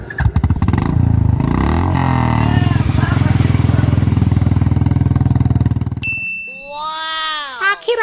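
A Royal Enfield Bullet motorcycle runs on its self-starter with a steady, throbbing engine rumble for several seconds, then gives way to a bright, ringing chime.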